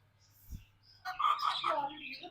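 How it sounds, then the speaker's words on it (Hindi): Parrots in a small backyard pet enclosure housing pigeons and chickens let out a burst of harsh squawks after a quiet pause, fairly close and loud. "तोतों ने भी शोर मचाया हुआ है"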